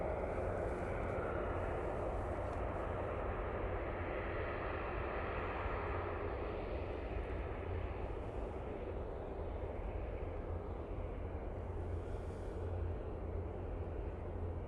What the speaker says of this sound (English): Prop. Just arriving. Aer Lingus ATR. Coming in from Belfast, I think,